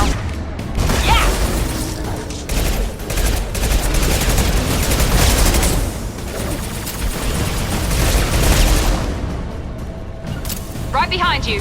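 Dense, sustained gunfire from a Mass Effect 2 firefight rattles through nearly the whole stretch in loud overlapping bursts with booms and mechanical clatter, and voices speak over the shooting.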